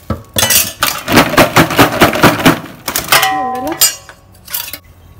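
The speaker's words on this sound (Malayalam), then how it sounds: "ഇതിലേക്ക് ഞാൻ കുറച്ചും കൂടി ഷുഗർ ഇട്ടിട്ട് ഒന്നും കൂടെ ഒന്ന് മിക്സ് ചെയ്യുന്നു" Sugar being stirred into a mixture with a spoon, giving rapid rhythmic clinks and scrapes against the container, then a brief bright ringing tone and a few final knocks.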